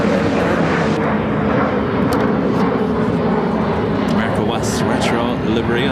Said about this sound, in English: Now touching down on 28 Center, coming in from San Diego, flight 489.